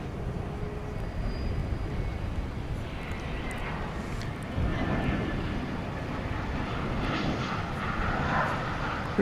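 A British Airways Airbus A380 Super Jumbo, Flight 192 to London Heathrow, takes off at night from DFW Airport, a broad distant jet roar that swells steadily and holds as a heavy continuous rumble.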